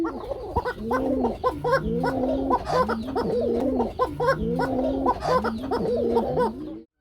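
Pigeons at a pigeon farm coo continuously, overlapping rhythmic throaty calls from several birds close by, repeating steadily without pause until a sudden stop at the end.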